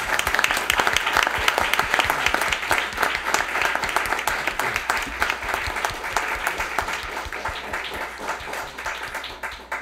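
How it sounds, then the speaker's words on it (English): Sustained, dense applause fills a city council chamber as an officer is honored with an award, many hands clapping steadily at moderate volume for about ten seconds and tapering slightly near the end. "And we can applaud now."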